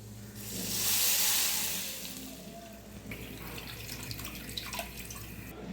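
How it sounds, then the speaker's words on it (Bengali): Lentils washed under running tap water, with a rushing faucet stream swelling then easing, followed by splashing, dripping and light rinsing clatter in a sink. "ডালটা আমি ভালো করে ধুয়ে নেব।"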